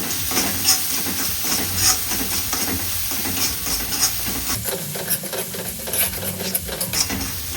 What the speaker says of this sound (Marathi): आता आपण हलवून टाकू